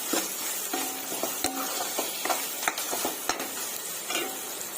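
Tomato and onion frying in a pan for chicken curry, a soft continuous sizzle punctuated by several spatula scrapes and taps against the pan, close and fairly quiet.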